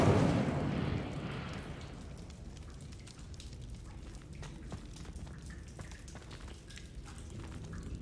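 The Incendio fire spell in Hogwarts Legacy bursts out with a loud whooshing flare at the start, then fades into a crackling, fizzing burn that carries on quietly.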